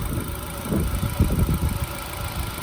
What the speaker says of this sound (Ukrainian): Двигунчик шепче тут.